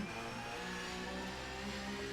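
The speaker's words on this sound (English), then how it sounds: "nice and back on the throttle" Porsche 911 Cup race car in the iRacing sim at the Nordschleife, engine note steady and strong as the throttle opens, a continuous buzzing mechanical tone sustained without break.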